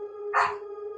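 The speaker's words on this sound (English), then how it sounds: "That's the name of the dog who's currently barking." One short, fairly loud dog bark, close by and alone over a steady electronic hum.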